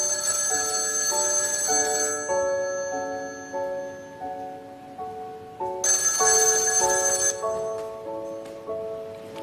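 A telephone rings with a melodic chiming ringtone, with repeated tone patterns and loud bright bell bursts at the start and again midway, steady and close, with no talking.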